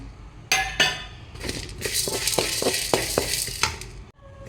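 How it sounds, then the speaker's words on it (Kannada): A piece of cinnamon and three or four cloves fry in a pan for a Kundapura-style chicken ghee roast, giving a steady close sizzle broken by repeated metal clinks and scrapes of stirring. "ಈಗ ಒಂದು ತುಂಡು ಚಕ್ಕೆ ಮತ್ತು ಒಂದು ಮೂರು ನಾಲ್ಕು ಲವ ಲವಂಗ ಹಾಕಿ ಫ್ರೈ ಮಾಡ್ಕೊಳ್ಳಿ"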